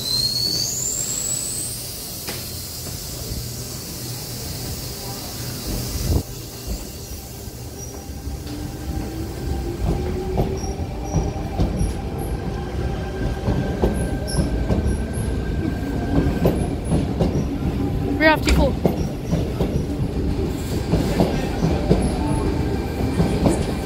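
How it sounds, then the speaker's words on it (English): A Sydney Tangara suburban train departing platform 1 at Hornsby toward Central: loud rolling wheel rumble that builds steadily, with high wheel squeal and clattering rail noise, heard close with no talk. "Tangara, T30 and T4 now departing platform 1 for service to Central and then back to Hornsby."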